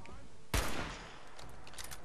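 A sharp burst of gunfire in the Fallout 4 video game cracks out once and decays quickly, with fainter shot-like taps trailing afterward, moderately loud over a low background.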